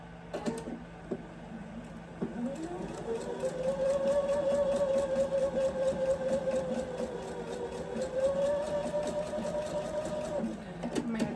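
A sewing machine stitching calico fabric for a quilt block runs in a steady, close mechanical whir with rapid needle rhythm for several seconds, starting and stopping at the ends.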